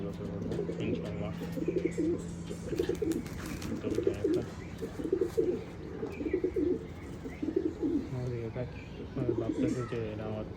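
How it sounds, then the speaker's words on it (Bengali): Domestic pigeons being bathed one by one coo in repeated rhythmic bursts close by, each call rising and falling, with a faint steady hum underneath. "অনেক দিন পর ছাড়া পাইছে সবগুলা কবুতর"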